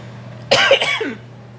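One person gives a single harsh cough, close and loud, breaking into a short rough burst and then fading, with a low steady hum behind it.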